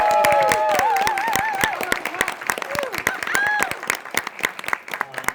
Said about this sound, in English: Give one more big round of applause for everyone on stage.